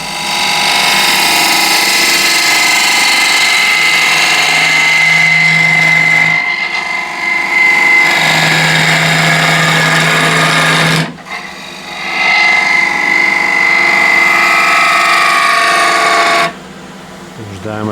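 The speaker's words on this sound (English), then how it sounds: "I switch to small ball gouge." Small ball gouge cutting cross-grain ash wood on a lathe for a large box, a steady, loud whine with a hum beneath, broken by two short pauses as the tool lifts off.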